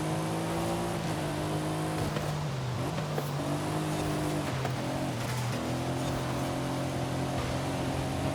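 Race car in the video game Forza Horizon 5 accelerating hard at full throttle, a loud sustained engine drone whose pitch rises, dips with gear changes and climbs again, steady and close.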